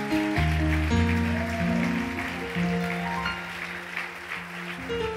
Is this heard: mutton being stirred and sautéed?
no